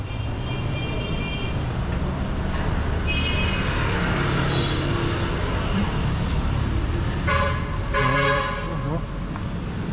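Car horns honk amid busy street traffic in central Hanoi, with a couple of clear toots near the end rising over a constant roadway roar and nearby voices.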